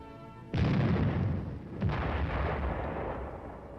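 An M52 105-millimeter self-propelled howitzer fires direct, letting off two loud, close blasts about a second apart, each followed by a long rolling rumble.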